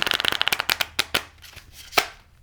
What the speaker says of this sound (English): Oh, that was a terrible shuffle.